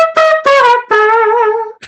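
A singer's voice imitates a regular trumpet with three bright, buzzy brass-like notes, two short blasts followed by a longer held tone, close and alone.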